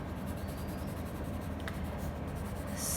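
Watercolor pencil scratching across paper in a steady, soft, continuous rasp, close up against a constant background hiss, with a brief higher scrape near the end.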